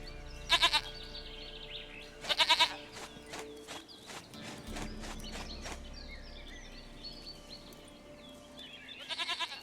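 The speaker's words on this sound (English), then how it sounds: "Goat of mine, dearest, sweetest goat." A goat in The Witcher 3 video game bleats in three loud, separate bursts, with softer farmyard and bird sounds filling the gaps between them.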